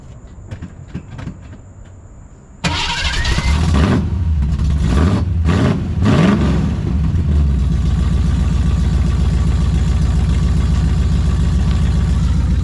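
A 1969 Ford Mustang engine with side pipes cranks and bursts to life with a loud roar, is revved hard a few times in quick blasts, then settles into a heavy, lumpy idle.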